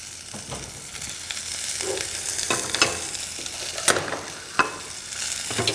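Mushrooms seasoned with salt and pepper frying undisturbed in a pan, a moderate hiss and crackle with scattered louder pops, close and without speech.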